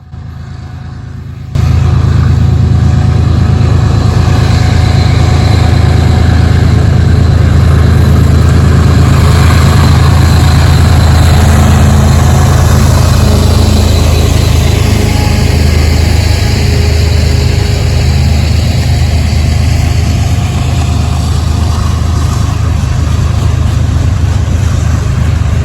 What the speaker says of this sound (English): westbound mixed freight train would show up on Norfolk Southern's Dayton District at CP 146